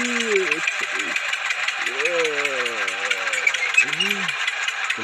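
A toy tractor's steady buzzing motor runs continuously while it strains to pull a toy truck, with a voice making rising and falling engine-like imitation sounds over the whirring drone.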